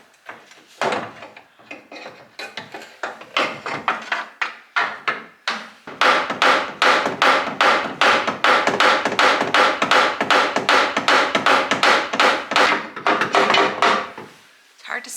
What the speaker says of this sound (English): start hammering out a bumper